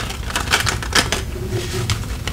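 Tarot cards being shuffled in a series of quick riffling, clicking bursts close to the mic, with no talking over them.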